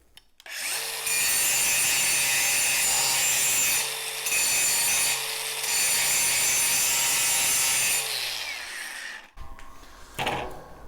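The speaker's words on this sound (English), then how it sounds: "Try to keep the grinding sparks always going down or away from you as much as possible" Angle grinder knocking slag off a metal edge, a loud continuous high whine running steady with brief dips as the disc lifts and touches back down, then winding down near the end.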